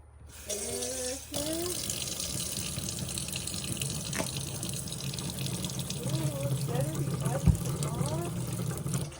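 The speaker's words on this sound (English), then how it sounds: "I have to wash the mixing bowl." A mixing bowl is rinsed under a running kitchen tap, giving a steady broadband water rush for nearly the whole stretch, with a voice speaking over it and a brief knock near the end.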